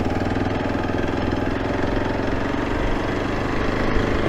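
Steady, close engine running of a Hero Xpulse 200 BS6 motorcycle on wet ground, a continuous even throb at moderate level with no talk.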